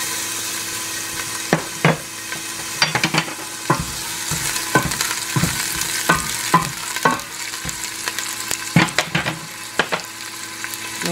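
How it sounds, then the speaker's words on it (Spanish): Onion, garlic and tomato sizzle steadily in a hot frying pan, with sharp stirring and scraping clicks at irregular intervals throughout. "Espera que se caliente para poner la cebolla, el ajo y el jitomate."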